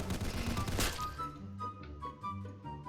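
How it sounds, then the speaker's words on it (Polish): A rapid burst of gunfire at the start of a Counter Blox round, followed by scattered shots and game sound effects with tonal music underneath. "Ja milion strzałów, a on jeden."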